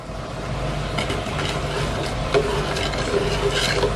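Mung bean and sweet potato mixture with sugar being stirred in a pan over low heat, a steady scraping and sloshing with a faint sizzle, continuous and close.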